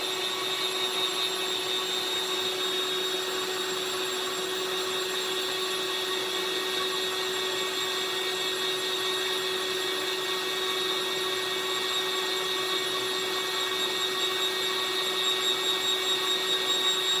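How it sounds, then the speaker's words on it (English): A hot air heat gun on an 8586 solder working station blows steadily, a constant airy hiss with a faint high whine that holds unchanged throughout. "Let's get the heat gun going on."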